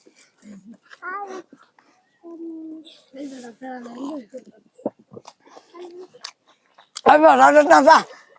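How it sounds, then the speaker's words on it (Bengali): Boys in a village take on a samosa (singara) eating challenge, with close chewing and biting sounds mixed among bursts of loud talking and excited voices, especially near the end. "কয় মিনিটে খেয়ে শেষ করে 5টি সিঙ্গারা"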